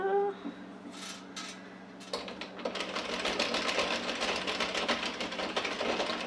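A knitting machine carriage is pushed across the needle bed while making a knitted hat, giving a steady clattering, whirring mechanical run that starts after about two seconds of quieter handling and continues close and loud to the end.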